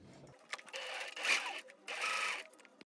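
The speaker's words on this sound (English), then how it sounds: "Now we're just gonna sew around the top and the bottom." A sewing machine stitches around the top and bottom edges of a homemade fabric N95-type mask, running in two steady bursts with short pauses and faint handling noises between.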